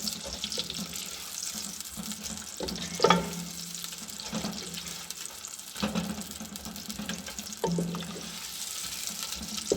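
Whole spices (star anise, black and green cardamom, black peppercorns and cloves) sizzling in oil or ghee for chicken pulao, a steady close frying hiss with a few sharper clinks and stirs, no talking.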